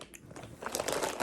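Crunching bites into a corn or tortilla chip, heard as a quick cluster of crisp, close crackles and chewing crunches that grow denser toward the end.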